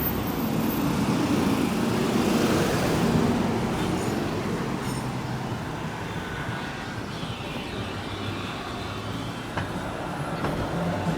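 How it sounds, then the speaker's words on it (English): Large vehicles roll past on a busy downtown Miami street, buses and trolleys in steady traffic, a broad continuous rumble that swells early then settles into a constant drone, with no voices. "Here you can see all the buses and the trolleys coming."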